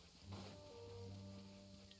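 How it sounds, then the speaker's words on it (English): Rain falls in the video game Genshin Impact as a faint, steady patter under soft sustained musical tones, with no voices. "If I fly, the rain will make my cape too heavy."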